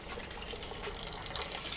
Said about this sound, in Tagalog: patayin mo muna yung gripo